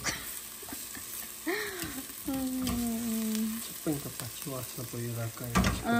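Pav bhaji ingredients frying in a pan at home, a soft continuous sizzle with a ladle stirring and scraping, while background tones and faint household noise sit under it; no talking.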